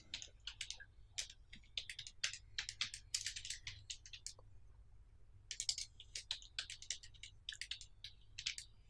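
Bursts of quick, light key clicks from a computer keyboard as an address is typed, coming in short runs with brief pauses, close and clear with no talking.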